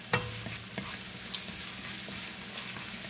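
Chopped garlic and onions sauté in a pan, giving a steady sizzle with a few sharp clinks of a utensil stirring against the pan.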